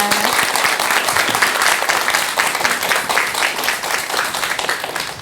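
Audience applause at a Buddhist temple mountain concert, a dense, sustained round of clapping from a seated crowd, moderately loud and continuous throughout with a faint voice underneath.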